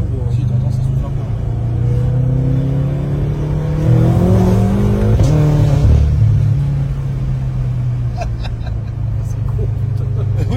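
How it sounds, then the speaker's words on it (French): A turbocharged car engine hums steadily and swells as it revs, with the turbos blowing audibly. People talk over the engine throughout. "T'entends bien les turbos. Hein. Si, t'entends, ça souffle un peu."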